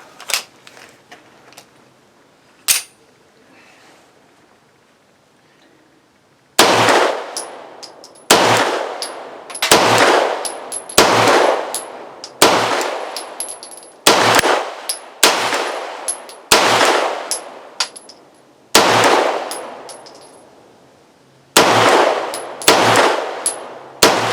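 A Rock Island Derya Melik 9mm pistol, fired by a gloved shooter, lets off about a dozen loud, sharp shots in uneven pairs and singles, each with a short ringing decay, after several seconds of near quiet.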